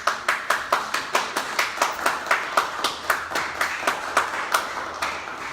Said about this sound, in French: je commence à avoir des applaudissements